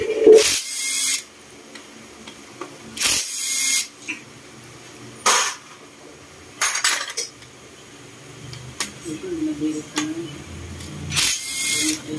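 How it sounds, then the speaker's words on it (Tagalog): Several short loud bursts of a whirring impact wrench loosening bolts on a motorcycle water pump, separated by pauses with faint metallic clinks and tool handling. "pwede kayong gumamit ng impact kung paluwag"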